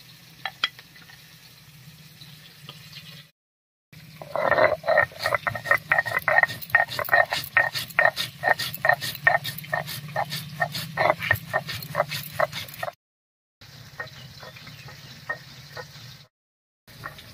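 Rhythmic grinding and pounding of cumin seeds and ginger into a paste, a steady series of sharp repeated strikes up close, pausing briefly and resuming with quieter scraping.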